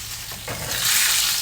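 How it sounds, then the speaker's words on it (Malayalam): Masala for fish fry sizzles in a pan, a steady close frying hiss that swells louder toward the end, with light stirring noises and no talking. "ഇനി നമുക്ക് മസാലയാണ് ഫ്രൈ ചെയ്യേണ്ടത്."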